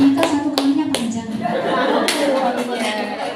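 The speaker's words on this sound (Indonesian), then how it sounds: "kita pengen satu saja kali tepuk tangan" Audience clapping at an opening ceremony in Indonesia, a few sharp hand claps early on, then a sustained clapping wash under a speaking voice and some laughter.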